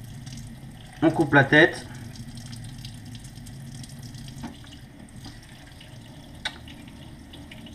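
Cold tap water runs in a short, close burst while anchovies are filleted by hand at a sink, then falls away to quiet handling, with a voice speaking briefly.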